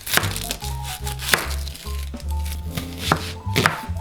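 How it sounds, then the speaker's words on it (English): Knife chopping onion on a cutting board, a series of quick, close, fairly loud cuts in an irregular rhythm, with no talking. "now I'm going to cut up some onion"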